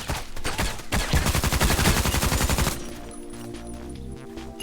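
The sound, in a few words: SMG gunfire in the video game Contract Wars (Hired Ops)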